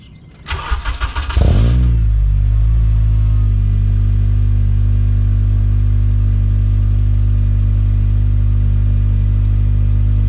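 An Acura TSX engine cranks briefly, fires and settles into a steady, close, even idle that runs alone for several seconds.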